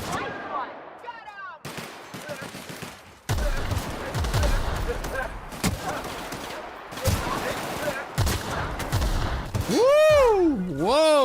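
Bursts of gunfire from the sci-fi shooter game The Outer Worlds, a sequence of loud, dense volleys and impacts that run through most of the stretch, with a player talking over parts of it.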